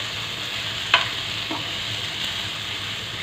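Peas, French beans and carrots with ginger-garlic paste being stirred in a hot pan, a soft steady sizzle with a couple of quick scraping clicks from the spatula, close and fairly quiet, no voices.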